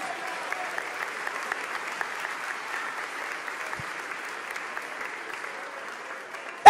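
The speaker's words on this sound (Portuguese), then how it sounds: "Aplauda o Senhor, meus irmãos." A church congregation at a Sunday morning service applauds steadily throughout, a dense, even wash of many clapping hands filling a large room without pause.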